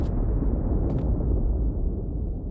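A deep, rumbling explosion roar in the video game Star Wars: The Old Republic fills the clip with a brief crackle near the start, dense and loud throughout.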